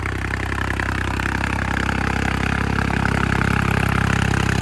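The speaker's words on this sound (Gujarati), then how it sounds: "4x4 ટ્રેક્ટર છે એટલે પહેલાં હાઈમાં ચાલે છે." A 4x4 tractor engine runs steadily at close range in a farm field, a continuous low rumble with a faint rattling clatter layered on top.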